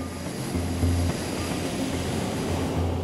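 Aircraft engines roar steadily near a US Navy aircraft carrier where fighter jets take off and land, a dense continuous rumble with pulsing low tones and no talk.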